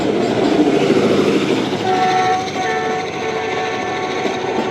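The Karachi Express pulls away from Lahore with a loud, sustained horn blast layered over rumbling wheels and carriage noise close by, the horn tone holding steady through the second half.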